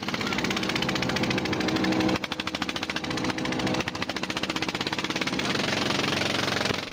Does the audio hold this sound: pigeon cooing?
no